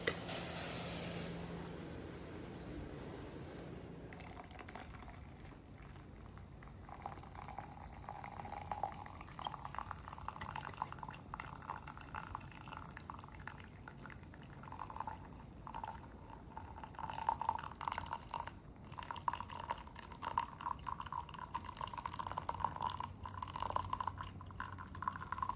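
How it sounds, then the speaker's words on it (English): Water at a rolling boil in a pot over a small camping alcohol stove outdoors, a steady bubbling and hissing churn that holds through the whole stretch at moderate, close level. "I'd say we pretty much have a rolling boil"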